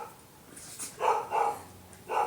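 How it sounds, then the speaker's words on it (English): A dog barks several times in short, moderately close bursts with brief gaps between them, in a quiet indoor setting. "They just sit there going, what are you barking at?"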